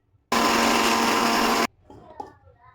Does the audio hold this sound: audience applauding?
no